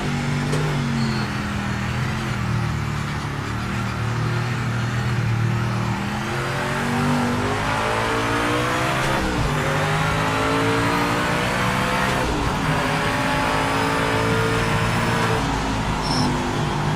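Race car engine at wide open throttle on a track, loud and sustained, the pitch sweeping upward through repeated gear pulls with brief dips at the shifts.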